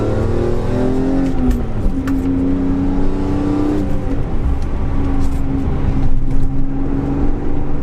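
A BMW E46 M3 engine revs and pulls up through the gears from inside the car, rising tones dropping at each shift, loud and close.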